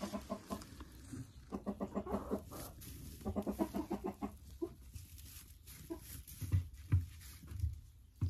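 A hen clucks in a dacha yard while searching for her eggs, giving repeated close bursts of rhythmic clucks with short pauses and lower scratchy farmyard noises between them.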